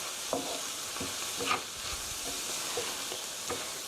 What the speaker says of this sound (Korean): 간장이 살짝 볶이면 더 맛있어요.